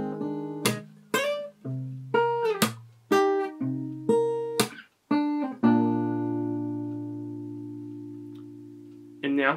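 D: Fingerstyle acoustic guitar picks the second line of the verse, using open strings such as the open A: a slow run of plucked notes that ring over each other, ending in a long sustained chord, close and clear before a voice starts.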